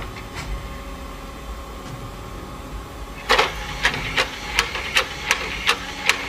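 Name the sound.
old Xbox console disc tray opening and closing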